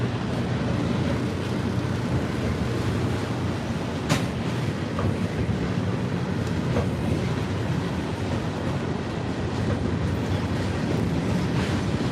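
A slow freight train rolls past nearby at Stuart, a steady continuous rumble and rolling wheel noise with faint clicks over the rails, no voices.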